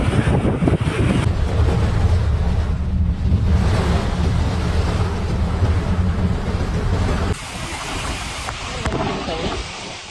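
Strong wind during a rainstorm in Surabaya roars continuously and loudly, buffeting the microphone with gusty rumble throughout, with a brief drop in intensity near the end.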